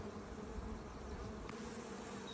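Honeybees buzzing during a nuc hive inspection with a double brood setup: a dense, continuous close-up hum of many bees, steady and fairly faint throughout.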